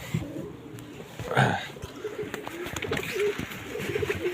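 Pigeons cooing in a loft at evening feeding, soft low coos rising out of a quiet background, with one fuller call near the middle and brief rustles around it, fairly faint.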